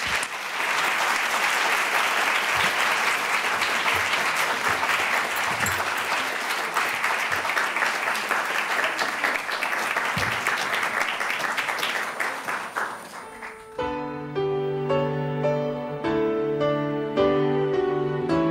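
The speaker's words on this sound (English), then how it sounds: "One more round of applause, please." A lecture audience at a bulb show opening applauds steadily and fairly loudly for about thirteen seconds, the clapping fading out as piano music takes over.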